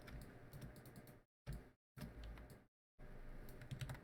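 Close computer keyboard key presses come as clusters of quick clicks, broken by two short silent gaps.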